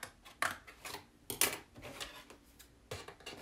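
Scissors snip through paper in a few short, crisp cuts, close and quiet, with soft rustling between them.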